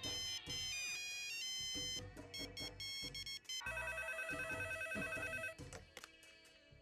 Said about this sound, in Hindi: ये रॉकी फोन क्यों नहीं उठा रहा है?